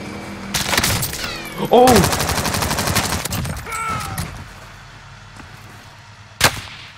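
Gunfire in Call of Duty: Warzone, loud rapid automatic bursts and scattered single shots close by, with a player exclaiming over the shooting and one sharp final crack near the end.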